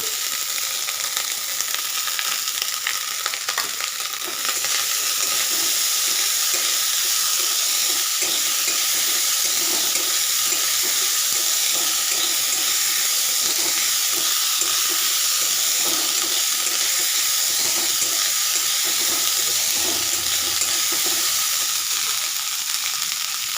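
Leftover rice frying in a pan with chopped onions, a loud continuous sizzle and hiss with faint stirring scrapes running unbroken under no speech.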